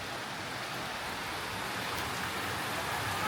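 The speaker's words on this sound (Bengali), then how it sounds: "কারেন্টলি বৃষ্টি হচ্ছে" Rain falls steadily outside a hotel in Darjeeling, making a soft, even hiss with no distinct drops or other sounds over it.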